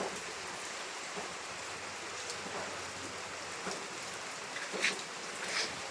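Constant typhoon rainfall hissing on surfaces in Camarines Sur, with a few louder nearby drips and splashes standing out toward the end.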